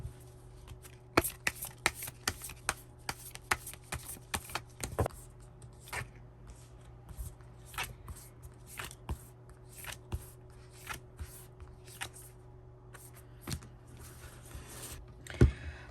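Tarot cards are shuffled and drawn by hand in a quiet room, giving soft riffling and sharp flicking snaps in irregular bursts, close and faint with a low steady hum beneath and no speech.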